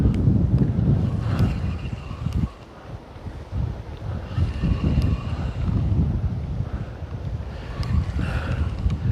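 Strong wind buffets the microphone beside a river at night during lure fishing, as loud low rumbling gusts that rise and fall throughout, with no talking.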